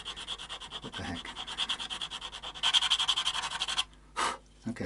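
A Tokai Firebird guitar nut sanded across its top, with rapid rhythmic rasping strokes that speed up and grow louder midway, then stop briefly before a final short scrape.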